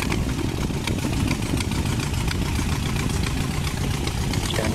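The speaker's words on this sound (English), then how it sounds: "Engine beginning to rev up." An engine revs up during a spaceflight launch, a dense, steady, roaring rumble that fills the whole clip with no break or pause.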